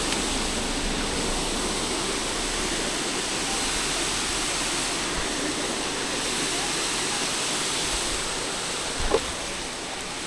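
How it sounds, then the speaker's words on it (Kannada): Waterfall at Charmadi Ghat in the rain, an unbroken broad roar of falling water heard steadily throughout, with a single soft knock near the end. "ಅಲ್ಲಿಂದ ನೋಡ ನೀರು ಬೀಳೋದು ನೋಡ"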